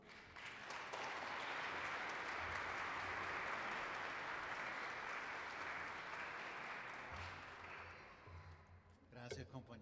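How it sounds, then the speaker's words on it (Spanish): Sustained applause from an audience at a commemorative cantata for Hugo Chávez in Washington DC, steady clapping throughout that thins out near the end as a voice starts. "lo recibimos con un aplauso"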